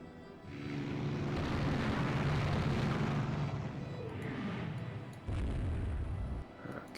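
Rumbling naval shell explosions hit an enemy battlecruiser in a warship battle game, a heavy roaring blast that swells and sustains, then a second sharper impact bursts in near the end.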